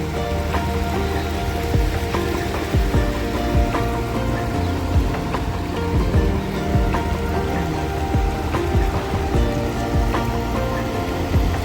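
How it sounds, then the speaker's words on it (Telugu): A small waterfall at Jurala dam gives a steady, broadband rush of splashing water, close and continuous, with scattered droplet spatters and no speech. "ఇదైతే చిన్న వాటర్ ఫాల్ గాయస్."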